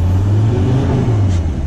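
A Volkswagen Crafter van with a broken exhaust idles loudly nearby, giving off a steady, deep rumbling drone with a slight rise in revs and no talk.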